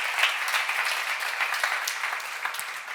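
Congregation clapping at a church seminar on Matthew 24–25, a dense, even wash of many hands over three seconds, moderately loud with no speech over it.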